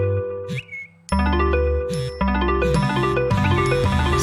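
In a mattress advertisement, a bright chiming notification jingle rings out as a series of loud bell-like dings stacked over a sustained musical bed, with no one speaking.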